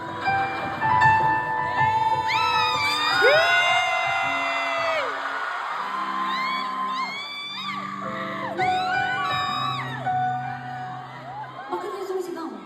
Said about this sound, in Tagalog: Bakit yung sumisigaw?